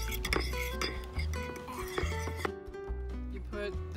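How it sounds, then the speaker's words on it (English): Eggs are whisked in a bowl for blueberry stuffed French toast, with a quick metallic clinking of utensil against the dish and soft rhythmic tapping, close and under some low voices. "Now you whisk the eggs."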